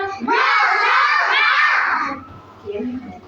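A group of children roar in imitation of a lion, a loud sustained chorus of about two seconds that fades into quieter background chatter.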